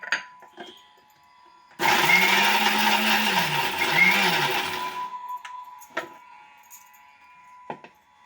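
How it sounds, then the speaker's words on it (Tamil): Kitchen mixer grinder grinding tomato, garlic and tamarind into a paste, whirring loudly for about three seconds, its motor pitch shifting as it grinds, with faint clinks and handling noises before and after. "இந்த தக்காளி பூண்டு புளி எல்லாத்தையுமே மிக்சிலேயே நான் அரைச்சிடுறேன்"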